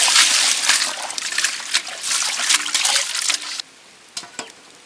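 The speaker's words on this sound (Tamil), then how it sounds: "தண்ணி ஊற்றி வேக வச்சுருவோம்." Water poured into a pot over cleaned goat intestines with turmeric and rock salt splashes and trickles steadily for several seconds, then stops, leaving a few faint drips and clinks.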